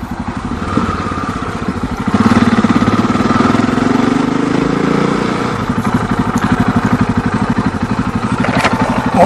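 Yamaha XT 660 Z motorcycle engine running, a loud, close single-cylinder thump with a rapid, even pulse that swells as it revs up around the middle, then settles back to a steady beat.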